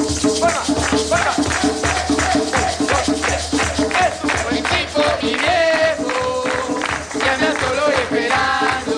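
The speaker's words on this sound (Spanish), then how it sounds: "Vamos con las palmas" A live comedy-show audience claps along in a steady rhythm, sharp regular hand claps repeating throughout, with musical tones and voices mixed in over the beat.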